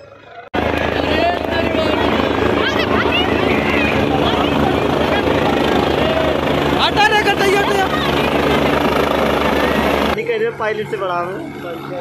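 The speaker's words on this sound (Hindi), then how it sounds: "देख सकते हैं आप लोग हेलीकॉप्टर आ चुका है" Loud, steady engine roar and rotor noise of a helicopter landing nearby in a village, with a crowd talking over it; the noise cuts off sharply near the end.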